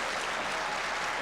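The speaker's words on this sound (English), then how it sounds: "Everybody's clapping" Crowd at a pool match breaking into dense, steady applause, a continuous wash of many hands clapping at close range with no pauses across the short stretch.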